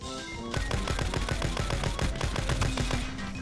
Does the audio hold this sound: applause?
no